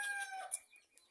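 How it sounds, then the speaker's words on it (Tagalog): Chickens and a rooster sound faintly in a brief moment, with soft clucking and high fowl calls in the distance. "Ayan, mga manok natin mga guys."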